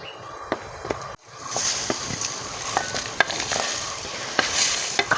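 Shallots, garlic, dried chillies, coriander, fennel, cinnamon, cloves, cardamom and coconut roast in a pan, giving a steady close sizzle broken by scattered scraping stirs and clicks throughout.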